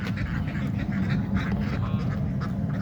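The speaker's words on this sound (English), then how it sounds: "ducks and geese are crossing." Ducks and geese call repeatedly while crossing on a homestead, their quacks and honks coming at moderate distance over a steady low engine-like rumble.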